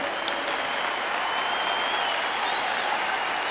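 A church congregation applauding during a Pentecost celebration Mass, sustained, dense clapping from many hands at a constant level, unbroken and without voices on top.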